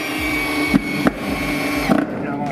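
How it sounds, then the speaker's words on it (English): Power drill driving screws to fasten a bracket to a fence, a steady close motor whine broken by a few short clunks as the screw bites, with no talk. "Screw this other bracket in here like this"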